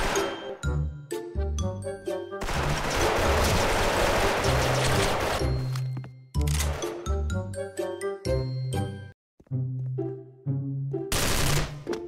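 A Frankenstein XM8 rifle fires in the Special Force game. Loud, rapid automatic bursts come in repeated volleys, broken by short pauses and layered with bright metallic chimes and dings.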